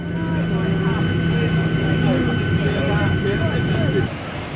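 Steady, loud roar of an airliner landing at Copenhagen Airport at dusk, heard from inside the cabin as a constant engine and air rush, with faint voices underneath.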